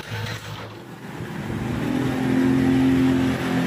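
A Yamaha motorcycle engine runs after repair, a close, steady idle that rises slightly in level over a few seconds with a low droning rumble.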